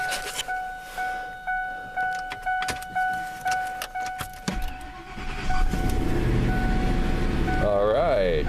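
Cold start of a 1997 Ford F-150 engine: a run of sharp repetitive clicks and chirps, then the engine catches around the midpoint and settles into a steady, close, loud idle.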